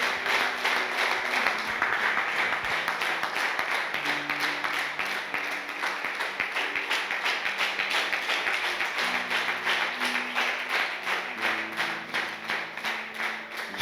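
A church congregation applauds during a Sunday worship service, a steady dense wash of clapping that runs without a break, with faint voices and musical tones beneath it.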